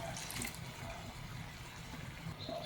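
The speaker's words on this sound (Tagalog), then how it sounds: "Konting tubig." Water poured into a cooking pot of simmering seafood in coconut milk, a steady soft splashing trickle lasting a few seconds, fairly quiet and close.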